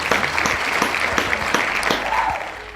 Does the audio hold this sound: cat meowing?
no